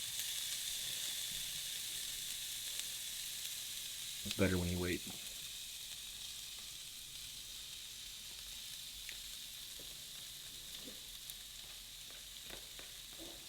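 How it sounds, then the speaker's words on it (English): Steady, fairly loud sizzling hiss runs throughout, with a brief spoken remark partway through. "I always want to throw this on here before it sizzles."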